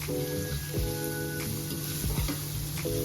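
Onions cooking in a pan for beef enchiladas give a steady close sizzle, with scraping stir strokes and light clinks over it and faint music underneath.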